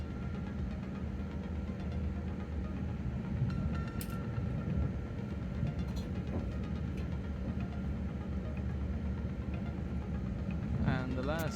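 Steady rumble of a train passing through Clapham Junction station without stopping, with wheel noise and faint squeals near the end, and voices murmuring underneath.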